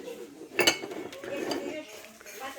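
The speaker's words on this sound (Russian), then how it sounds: "И кружки большие и маленькие" Large and small ceramic mugs clink together as they are handled, with one sharp knock followed by softer scattered taps and rattles, close by.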